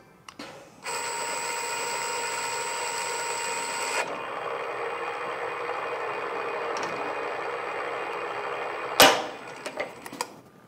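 A power tool on a test fixture torques a metric 10.9-grade bolt to failure, giving a loud steady whine that holds for several seconds, drops lower, then ends in a sharp crack and a few rattles.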